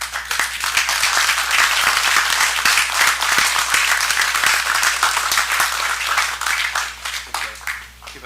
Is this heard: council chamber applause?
yes